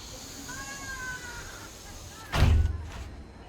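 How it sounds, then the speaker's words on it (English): A hotel room door at a beach resort swings open with a short thump and rattle of the latch, heard over steady room hum after a quiet stretch. "Let's just open the door."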